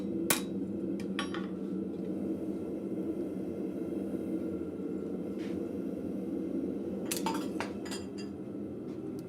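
A blacksmith at a forge straightens a forged piece meant to hang against a wall, striking it on the anvil with a few sharp metallic hammer blows, one early and a cluster near the end, over a steady background hum.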